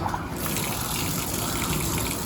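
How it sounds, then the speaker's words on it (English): Water from a newly plumbed household supply line gushes steadily as the tap is opened to purge air from the pipes, a continuous close rushing hiss with no pause. "now, you just turn the water on and let the air out of the lines."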